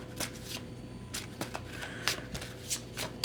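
Moonology oracle cards being shuffled by hand during a tarot reading: repeated papery riffles and soft slaps of cards in uneven bursts, close and moderately loud, with no talking.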